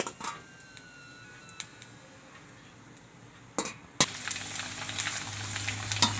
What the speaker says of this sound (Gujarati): તો આ રીતે આપણે બધી પૂરી તળી લેશું.